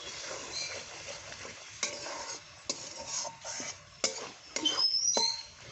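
Masala stir-fried in oil in a pan for matar paneer: a soft sizzle broken by several sharp scrapes and clinks of a spoon against the pan, close up, no talking.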